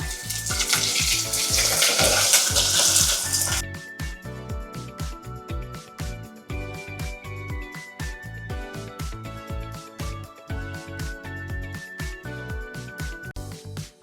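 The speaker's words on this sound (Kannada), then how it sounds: "ಒಂದು ಕಪ್ ಸಣ್ಣ ಈರುಳ್ಳಿನ ಮಾತ್ರ ನಾನು ಫ್ರೈ ಮಾಡ್ಕೊತಾ ಇದ್ದೀನಿ ಫಸ್ಟು" A cup of small onions fries in a pan, first in a dense, loud sizzle and then a busier crackle broken by rhythmic stirring and scraping, with music playing behind it and no talk.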